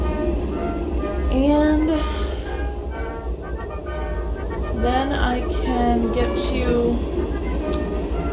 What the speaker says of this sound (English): God, that train is loud.